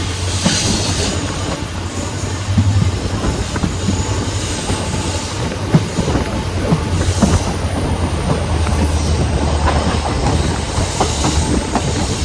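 Velankanni Express running near Sivakasi station, heard as a steady, loud rumble of wheels on rails with rhythmic clickety-clack and occasional squeal throughout, with no voices.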